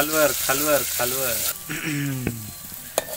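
Garlic hits hot oil in a pan with a loud, steady sizzle, then settles into a softer crackle with a few sharp clinks near the end; a voice speaks over the frying.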